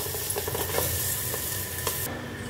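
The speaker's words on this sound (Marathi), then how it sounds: "त्याच्यामध्ये आता पापलेट टाकायचं आहे" Steady sizzling of pomfret frying in a hot pan, a continuous crackling hiss with faint scraping, cutting off near the end.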